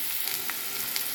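Onions and turmeric fry in a pan for a dried fish and tomato dish, giving a steady close sizzle with a few faint stirring clicks and no voices.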